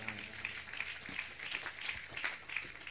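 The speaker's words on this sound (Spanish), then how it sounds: "Hay más palmas" Congregation clapping hands in a rhythmic, evenly spaced beat during a church song, faint and somewhat distant, with a soft musical and vocal bed underneath.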